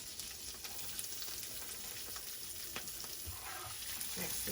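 Onions sauté in a pan for a chipotle shrimp dish, a soft continuous sizzle with occasional clicks and utensil taps, fairly quiet and with no voices.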